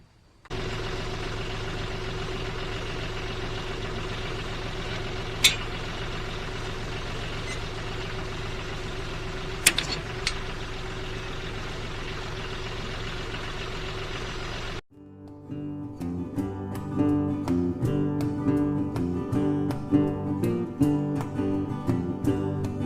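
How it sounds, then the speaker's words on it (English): A hay-cutting tractor engine drones steadily at idle, then shifts abruptly to a rougher, louder, revving run with knocking pulses; no one speaks. "So I'm going to crank the tractor up and see if I can get it to eject."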